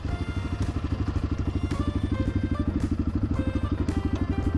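A motorcycle carrying two riders runs along a road near Jackson, Wyoming, its engine a steady rapid low pulsing throb with continuous clatter, loud and close throughout.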